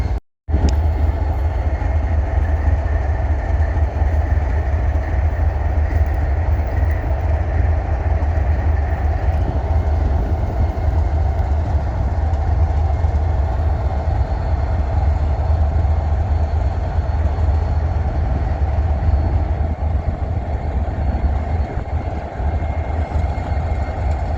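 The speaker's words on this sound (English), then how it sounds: "I think our train's going to be taking off here soon on what would be considered Main 2" A freight train on the Main 2 main line track rumbles steadily and loudly from close by for over twenty seconds, with deep continuous engine and wheel noise and faint rail clatter, no voices.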